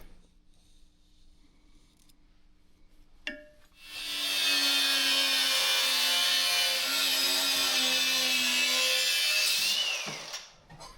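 A power saw cuts through a propane line, a quiet hum and a sharp clack before the saw bites in with a loud steady high whine for about six seconds, then stops and the sound fades out.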